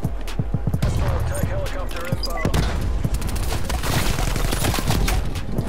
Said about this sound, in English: I'm getting shot from the left too.